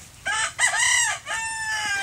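A rooster crows nearby at a Filipino farmyard, loud harmonic calls in two or three bursts filling the short moment with no talk over it.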